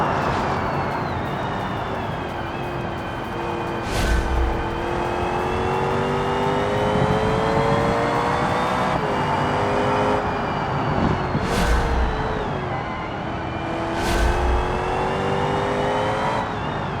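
A car engine in the BeamNG driving game revs and drones continuously, pitch climbing through gears with periodic shifts and surges, loud and close throughout with no talk over it.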